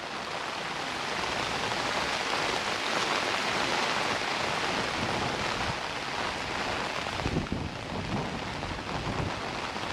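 Heavy monsoon rain pours down steadily onto a shelter in Ubon Ratchathani, Thailand, a dense, continuous roar of droplets that stays loud and unbroken throughout, with no voices.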